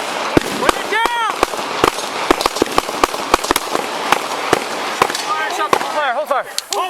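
Police gunfire during a San Diego officer shooting: a rapid, irregular string of loud, sharp gunshots, close and echoing, with shouting voices mixed in.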